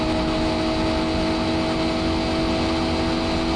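Engine of a BMW i8 police car in the Car Parking Multiplayer mobile game, a steady, loud, sustained drone as the car holds a high speed, with no talk.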